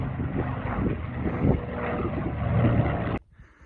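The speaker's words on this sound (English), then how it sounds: "Spitfires flying over Helvellyn." A Spitfire propeller aircraft passes overhead above the Helvellyn range in the Lake District, a steady rumbling drone mixed with wind buffeting that cuts off abruptly near the end.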